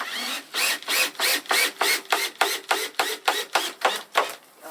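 A cordless driver sinks screws into a wooden chicken coop window frame, the motor whirring in a dozen short rhythmic pulses, close and fairly loud with no voices.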